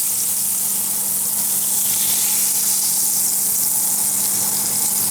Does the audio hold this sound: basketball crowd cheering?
no